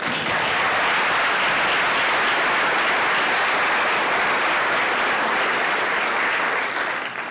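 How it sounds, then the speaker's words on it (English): Loud, sustained applause from an audience at a 30th anniversary community event, steady dense clapping filling the whole stretch without letup and no talk over it. "it is fitting that we pause and applaud them for their leadership, their sweat, their tears, and all of their years"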